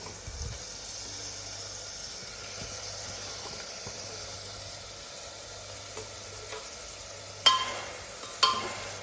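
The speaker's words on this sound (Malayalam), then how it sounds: "കുറച്ച് നേരം ഒന്ന് ഇളക്കി കൊടുക്കാം" Onions for a Kerala-style beef curry fry in a pan with a low, steady sizzle. Soft stirring runs throughout, and two sharp utensil knocks come near the end.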